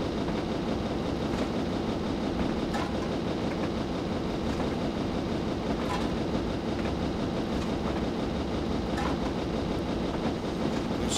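Video game train, a 6MT Clan Class locomotive running on Scottish western lines, giving a steady continuous rumble with faint rhythmic clicks of wheels on rails, without pauses or voices.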